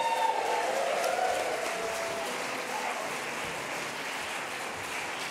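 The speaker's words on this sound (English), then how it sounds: "Just a quick round of applause for the unsung hero of the hour" Steady audience applause filling a hall at an evening chorus show, a sustained, even wash of clapping heard from within the crowd that slowly thins toward the end.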